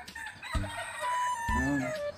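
A fighting cock crows loudly nearby, two drawn-out strained calls in a row.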